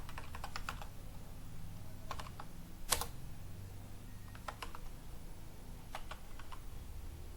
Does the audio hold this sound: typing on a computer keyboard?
yes